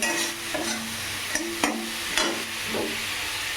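Onion and slit green chillies fry in oil, a steady sizzle broken by several clanks and scrapes of a stirring spoon against the pan, close and moderately loud, no talking.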